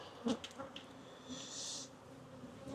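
Honeybees buzz close around a beekeeper at an open hive, a steady faint hum with a brief swell as one passes near, plus a few soft knocks.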